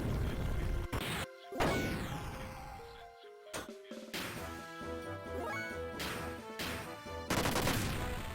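Hard Gatling attack in the Xenogears video game: a burst of loud crashing and rattling hits with sharp impacts and ringing tones, several separate blasts over a few seconds.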